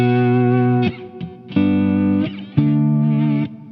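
Lap steel guitar in open D tuning plays three sustained, dissonant chords with a buzzy, processed tone. Each chord rings for nearly a second, then cuts off with a short scrape between.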